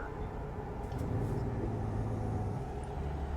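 Truck engine droning steadily while driving in a truck simulator game, a continuous low rumble at even loudness with no pauses.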